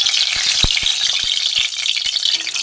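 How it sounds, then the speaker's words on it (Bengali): Rohu fish frying in hot mustard oil in a kadai gives a steady, close sizzle with scattered sharp pops and spits throughout. "মাছগুলো আমি একটা একটা করে কড়াই দিয়ে ভেজে নেব।"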